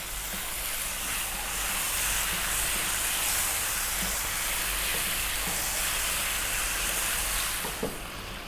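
Tomatoes for a chicken curry frying in a pan, a steady soft sizzle and hiss with faint scraping from stirring, continuous and fairly quiet, with a small clack near the end.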